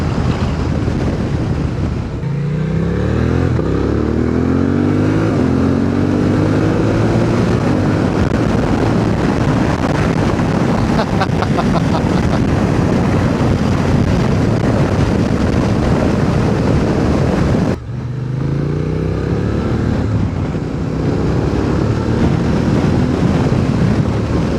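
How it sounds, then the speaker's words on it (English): Motorcycle exhaust drones continuously while riding, heavily buffeted by wind roar. Two rising revs, like gear changes, sweep through the steady engine note, and no one speaks. "listen to the sounds of the exhaust."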